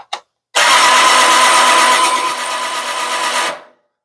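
A Powerwinch P92001 camper roof lift winch runs for about three seconds raising the roof, a loud close whirring motor drone that starts abruptly after a short click and stops cleanly.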